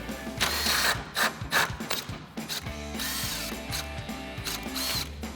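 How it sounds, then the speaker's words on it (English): A hand ratchet with a 10mm socket backs out screws on a 2019-2024 RAM 2500 during a headlight install, rapid clicking bursts in a repeating rhythm, close and clear. "We're going to grab our 10mm socket to do that."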